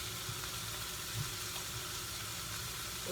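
Garlic and onion sizzle in a frying pan, an even, continuous hiss at moderate volume with faint occasional crackles throughout.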